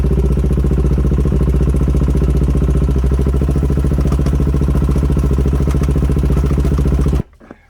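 A Kawasaki 400 EX engine runs steadily at a close, loud idle with a mechanical clatter and even throb, then cuts off abruptly near the end, leaving near silence.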